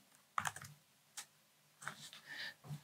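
Keys tapped on a computer keyboard while entering a terminal command, a few short separate bursts of quiet clicks with pauses between them, close by and alone with no talking.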